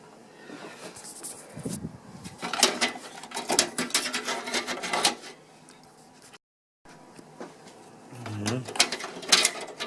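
A PC component being pressed into place on a loosened motherboard during a build gives bursts of plastic clicking, rattling and scraping handling noise, close and uneven, with a short break and a lower thud near the end; speech is also present.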